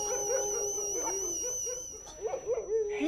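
Several dogs howl and bay together in long, wavering, sustained tones, a steady chorus that breaks into shorter yips and whimpers toward the end; fairly close and clear, no talking.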